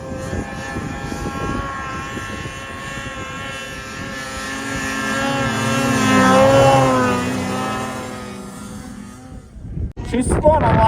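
An Arctic Cat ZR snowmobile runs through the backcountry, its engine a loud steady whine that swells and fades as it passes nearby, then cuts off abruptly near the end amid rustling.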